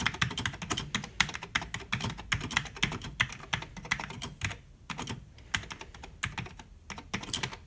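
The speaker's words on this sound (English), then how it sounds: "this is gonna be really hard to type with the tripod away" Rapid clacking of a Cherry G81 mechanical keyboard with Cherry MY switches, close and steady with short pauses, no voices.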